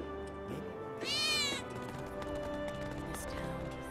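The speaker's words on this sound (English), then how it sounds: "I think one of Betty's cats might be nearby." A cat in the video game Final Fantasy 7 Remake gives one clear, drawn-out meow over a bed of game ambience and music, fairly loud and close.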